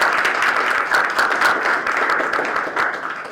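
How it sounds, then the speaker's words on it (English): A community roundtable audience applauds, a dense steady wash of many hands clapping at close range for a few seconds, with no talk over it. "Let's give them a round of applause."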